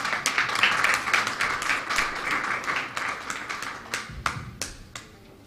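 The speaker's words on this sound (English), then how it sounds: "Let's give them a round of applause." A school audience at a programme launch in Belize gives a round of applause for two violinists, scattered clapping that thins out toward the end into a few separate loud claps.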